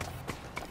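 Machine horses in Horizon Zero Dawn gallop in a fast, even clip-clop, three quick thuds under a steady bed of game noise.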